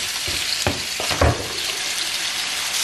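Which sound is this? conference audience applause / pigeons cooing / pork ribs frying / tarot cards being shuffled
pork ribs frying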